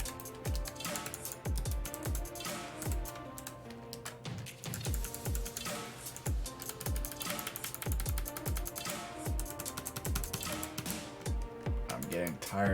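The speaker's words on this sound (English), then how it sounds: "I'm getting tired of typing this over and over again" Rapid, uneven clatter of a computer keyboard being typed on, close and continuous, with bursts of keystrokes and short pauses. Now and then a voice speaks underneath.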